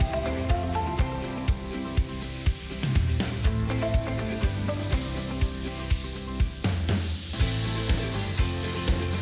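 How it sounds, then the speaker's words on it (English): Swordfish sizzling on a hot griddle, a steady close frying hiss broken by regular soft taps and knocks from utensils, with no talking. "When it's sizzling like that, you know you're onto a good thing because it's going to cook fast on the outside"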